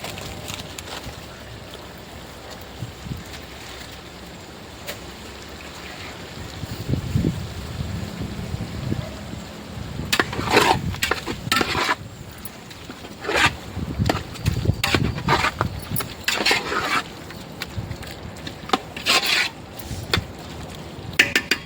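Chicken biryani ingredients with turmeric and salt are sautéed in a pan, with a spatula rasping and scraping across the pan in irregular close bursts over a low, steady background.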